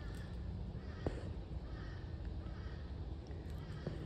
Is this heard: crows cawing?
yes